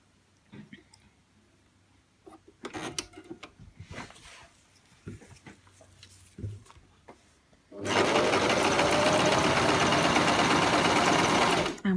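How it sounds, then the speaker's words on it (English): A sewing machine fitted with a zig zag foot runs steadily, stitching fancy decorative patterns with a loud continuous whir after several seconds of quiet clicks and handling noises. "we'll start with some fancy stitches."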